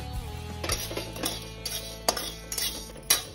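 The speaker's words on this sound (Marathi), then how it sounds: "तूर डाळ भाजून घेते" Toor dal dry-roasting in a pan, with dry rattling clinks of the lentils and a utensil tapping and scraping the metal in scattered bursts, fairly quiet and close, with no speech.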